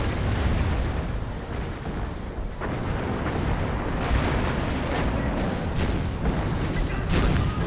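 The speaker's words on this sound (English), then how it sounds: "Artillery flying in." Artillery shells land in a strategy war game, with dense overlapping booms and crackling blasts filling the whole stretch, punctuated by sharper impacts toward the end.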